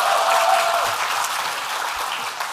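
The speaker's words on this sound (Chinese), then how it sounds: "我们掌声再送给小美好不好？" A live audience at a programmers' stand-up comedy show applauds, a steady wash of clapping that holds throughout and tapers slightly at the close.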